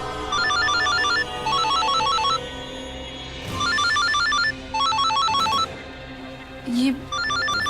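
A mobile phone ringtone plays a repeating electronic melody in bursts, moderately loud, with brief gaps and a faint voice heard between phrases.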